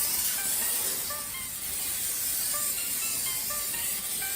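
Short hissing bursts of Pam cooking spray coating a cake pan, close and fairly quiet, a few brief sprays over a few seconds.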